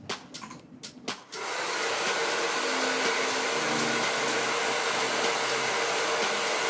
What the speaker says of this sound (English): I'm gonna dry a little bit more on the top before I go in with the round brush.